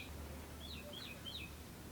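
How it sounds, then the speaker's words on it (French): A small bird chirps indoors amid a plant collection, giving several quick, faint high tweets in a row over a low background hum. "Par contre, l'oiseau, t'aurais pu piailler avant en fait."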